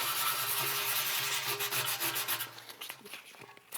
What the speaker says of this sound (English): Something to keep in mind when you're sanding is to go back and forth, up and down